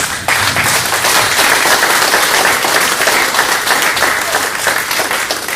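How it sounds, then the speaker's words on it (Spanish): Loud, sustained applause from a church assembly audience fills the space evenly from start to finish, a dense wash of clapping with no voices standing out. "Un aplauso al Señor."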